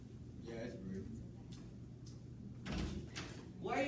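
A door opens for someone arriving in a room, with a single brief knock-like thud partway through and a muffled voice in the background throughout.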